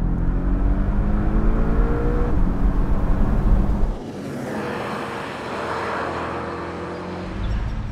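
A downsized Porsche Boxster engine drones steadily while driving, a loud, continuous note that eases back slightly halfway through, then lifts again near the end.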